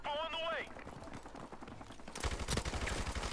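Rapid automatic fire from a Lynx CQ300 in a Modern Warfare Remastered match, a fast rattling burst near the end that follows a talking voice and quieter game sounds.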